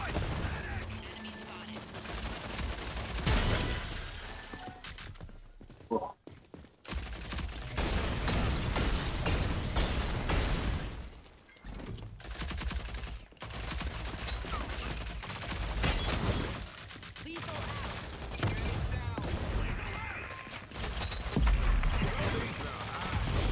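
Rapid gunfire bursts in an online multiplayer shooter match with SMG use, loud volleys and clattering shots repeating over several seconds, mixed with game effects and players talking over the action.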